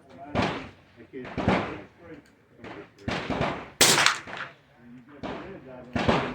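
Rifle shots from a 16-inch chrome-lined barrel ring out at a 200 yard outdoor range, several loud sharp cracks spaced a second or so apart, mixed with people talking between and over them.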